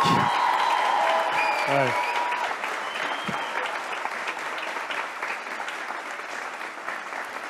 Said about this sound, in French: Je voudrais un tonnerre d'applaudissements pour Aïda